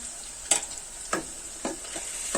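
Marinated chicken sizzles in a pan with fried onion and tomato while a utensil stirs it, giving a few sharp scraping knocks over a steady frying hiss.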